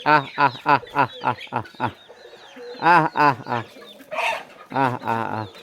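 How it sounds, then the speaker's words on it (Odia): Several chickens cluck close by in a rural yard as they hurry over at feeding time, a rapid series of short rhythmic calls with brief pauses, while someone speaks nearby. "କୁକୁଡ଼ାମାନଙ୍କୁ ଦୌଡ଼ି ଆସୁଛନ୍ତି ସବୁ।"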